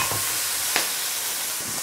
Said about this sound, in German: Und das wird auch nun mit angeschwitzt, mit den Karotten zusammen.